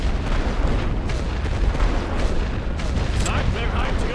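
Suppressive rifle fire and artillery on a World War I Western Front battlefield in The Great War: Western Front make a dense, loud, continuous barrage. Booms and gunshots overlap constantly, and faint voices sit beneath the roar.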